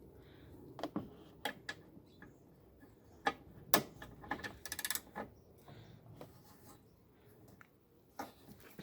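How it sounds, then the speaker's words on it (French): 13 mm socket ratchet removing a bolt on a Citroen Berlingo during horn removal, giving scattered sharp clicks and mechanical rattles, close and fairly quiet, with a tight burst of rapid clicking in the middle. "Après tu prends une douille de 13 et tu retires le boulon qui est là."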